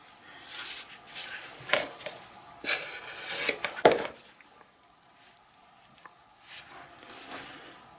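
A flat putty knife scrapes and drags across Durham's water putty in several short, close strokes with soft taps and clicks, then the sound fades into quiet handling noise.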